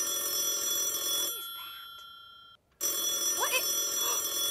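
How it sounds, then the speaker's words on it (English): A toy fossil phone rings with a steady electronic trill and bright high tones that cut out suddenly partway through, then resume and continue. "I think we have a call on the fossil phone."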